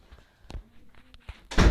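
A door slams shut in a video game, one heavy thud at the end after a few soft scattered knocks and shuffles.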